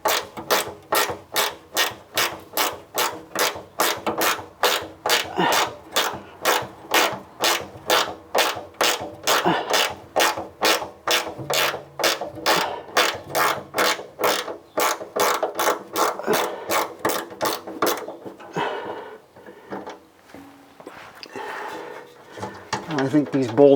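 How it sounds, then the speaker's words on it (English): A ratcheting wrench works the fuel tank strap bolts on a 1971 Chevrolet Nova, clicking in a fast, steady run of close ratchet strokes that slows near the end. "Okay, I got my ratcheting wrench this time."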